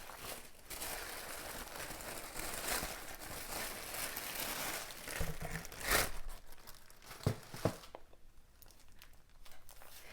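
Plastic wrapping on a Stampin' Up Paper Pumpkin craft kit crinkles and tears as it is pulled open, steady close-up rustling for several seconds, then a few sharper crackles and quieter handling near the end.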